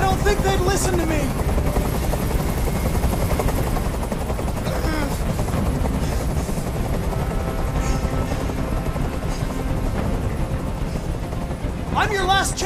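A helicopter hovers with a loud, continuous rotor chop throughout a hostage scene in the video game Detroit: Become Human, while voices speak over it.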